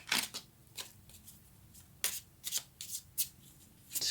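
Tarot cards being shuffled and drawn from the deck, heard as a series of quick crisp riffling snaps spaced irregularly over a quiet background, close and fairly soft.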